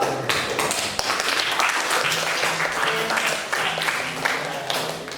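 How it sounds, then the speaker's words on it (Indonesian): Applause from a classroom group, dense clapping throughout with some voices mixed in. "Tepuk tangan untuk kelompok"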